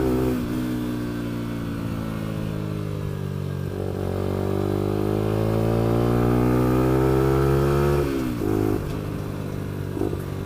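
A Lexmoto LXR motorcycle engine revs hard while being ridden, its loud, steady drone climbing in pitch, dipping briefly around the eighth second, then pulling on again.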